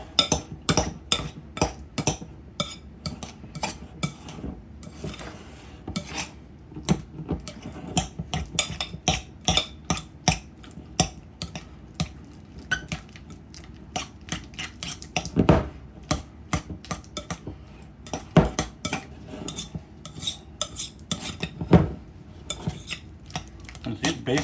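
Jalapeno popper filling being cut and mixed in a dish with a utensil: dense, rapid scraping and clinking taps against the dish, continuing without a break throughout.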